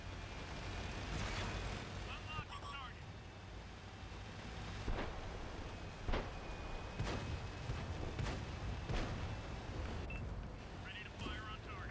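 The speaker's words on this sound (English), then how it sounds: "There comes a shot from the Panther." A Panther tank fires its cannon in World of Tanks, with several sharp booming shots spaced a few seconds apart over rumbling engine noise, mid-distance and moderately loud.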